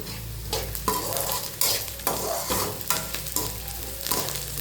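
Green chillies and onion with plenty of garlic fry in a pan, a continuous close sizzle broken by rhythmic stirring scrapes and clatters of the spoon, no one talking.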